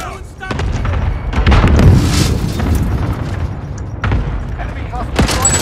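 A grenade going off in the Call of Duty Warzone video game, a loud deep boom that swells into sustained rumbling among other combat noise, with in-game voices calling out over it.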